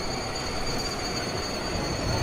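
Mumbai local train, a Churchgate–Goregaon slow service, rolling into Mahim station with a steady rail rumble and faint wheel squeal throughout, no voices over it.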